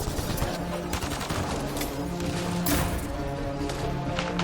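Dense, rapid gunfire from a Mass Effect Andromeda battle crackles without pause, with overlapping bursts and sharper spikes layered into a loud, continuous firefight.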